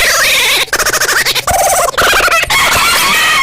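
A rooster crows loudly and close by, a long strained call broken by short clucking bursts, filling the whole moment.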